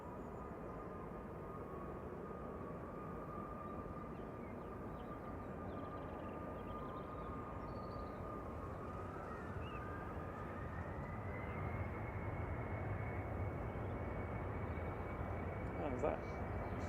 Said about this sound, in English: Air France Embraer E190 heading back over to Paris Charles de Gaulle